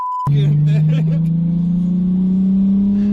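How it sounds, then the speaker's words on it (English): Interior cabin sound of a Nissan R32 Skyline GT-R from the passenger side, a steady, loud engine and exhaust drone holding one low pitch and rising slightly throughout, with a brief tone at the very start. "you can just hear the note of it so much more than just the droning that you hear in the driver's seat"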